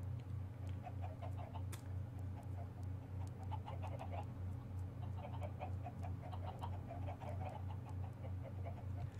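Chickens cluck repeatedly in the Minecraft video game, scattered short calls over a steady low game hum, with no talk.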